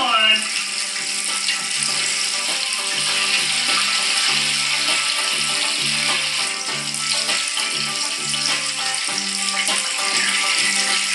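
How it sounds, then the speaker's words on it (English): Buttermilk-marinated chicken lowered into oil heated to 350 degrees, a loud, steady crackling sizzle that fills the whole stretch, with a voice talking over it now and then. "the oil just hitting 350. So it's time to drop in the chicken."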